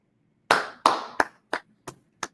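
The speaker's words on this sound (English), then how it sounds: "you giving Haaland a round of applause is what I like to hear" A few people clap for Haaland during a Premier League match watchalong, six distinct claps spread over two seconds, sharp and close, with no talking.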